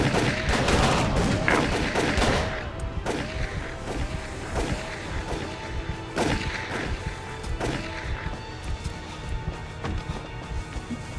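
Gunshots ring out in Call of Cthulhu: Dark Corners of the Earth, a flurry of sharp cracks at irregular intervals amid hurried footsteps and clattering, close and loud throughout.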